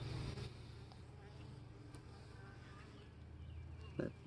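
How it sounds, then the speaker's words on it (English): Honeybees at a hive started from a package, with frames of drone comb, give off a faint, steady buzz outdoors, with no one talking. "That bee right there is not being liked."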